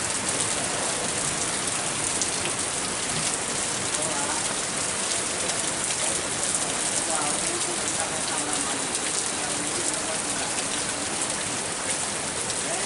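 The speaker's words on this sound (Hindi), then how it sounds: "आई वर्षा जो भऽ रहल छै एखन" Steady, dense rainfall in Mithila, Bihar, pours down without a break, a broad, even hiss of drops hitting the ground and surfaces. It is loud and close and stays constant throughout, with no voices over it.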